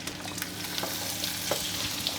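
Steady sizzling and spitting of skin-on chicken breasts frying skin side down in a hot pan, with occasional louder pops and crackles.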